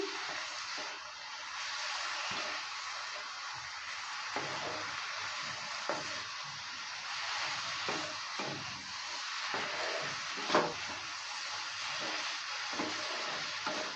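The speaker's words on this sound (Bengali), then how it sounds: "সর্ষের তেলটা দেওয়ার পর ভালো করে আবারও নেড়ে চেড়ে নিচ্ছি" Mixed vegetables frying in mustard oil are stirred in a pan, giving a steady close sizzle with soft scraping strokes and one sharper clink of the utensil, continuous throughout with no talking.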